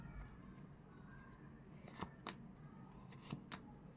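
A deck of tarot cards shuffled by hand, with soft papery riffles and a few crisp snaps, quiet and close with no voice.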